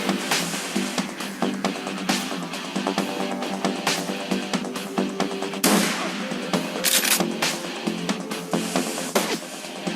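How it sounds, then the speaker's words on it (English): Rapid gunfire in the game Shadowrun Returns, a dense run of sharp shots in quick bursts over ten seconds, with a louder volley midway; close, with no talking. "they're both gonna shoot her"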